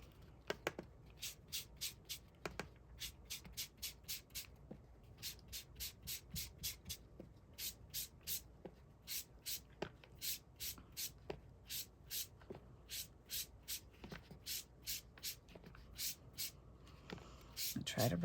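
Repeated short rubbing strokes burnish a craft transfer out to its edges, a quick rhythmic scratchy series that is close but faint, with brief soft handling noises between strokes.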